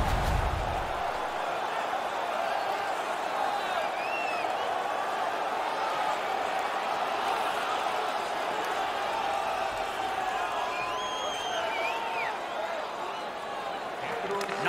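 Arena crowd at an NHL 19 hockey game between the Washington Capitals and Tampa Bay Lightning, a steady roar of cheering and scattered whoops with clapping under it, moderately loud and continuous, with a commentator talking over it.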